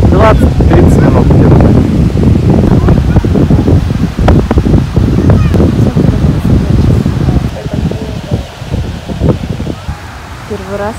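Strong wind buffeting the microphone over surging sea waves at the beach in Kiryat Yam, loud and continuous, easing slightly toward the end, with voices mixed in.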